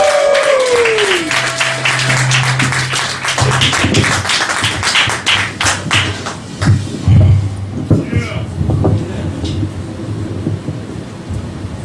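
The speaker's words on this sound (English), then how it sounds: "Big round of applause, you guys" Applause at a Richmond, Virginia cafe comedy night as the comedian is introduced: a dense, steady patter of clapping from the audience that swells, with some voices and cheering mixed in, carrying on for several seconds.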